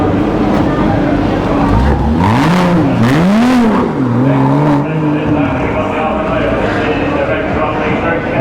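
A 2013 BMW 320 with 167,000 miles revs up and down at a used car auction, with rising and falling engine pitch, loud and close, while people talk over it.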